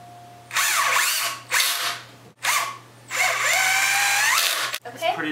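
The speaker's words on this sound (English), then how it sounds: "drill from the inside of the frame down into these pieces" A power drill drives through a light table frame into wood pieces in three bursts, its whine rising and falling in pitch as the bit bites, loud and close with short pauses between runs.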